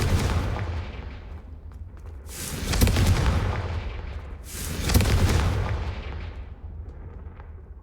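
Incendio and Confringo spell blasts in Hogwarts Legacy, two heavy booming bursts a couple of seconds apart, each with a sharp crack and a long decaying rumble.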